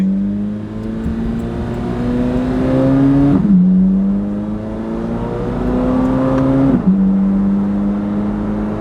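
A Chevrolet Corvette C8 Z06 with its 670-horsepower engine revs hard, its pitch climbing steadily through two long pulls, each ending in an abrupt gear shift, loud and close.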